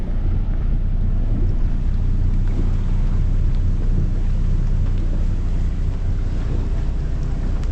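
A 35-foot Swift Trawler single-screw yacht underway in Charlotte Harbor on a breezy day, heard as a continuous low engine rumble mixed with heavy wind buffeting and water rush, steady throughout.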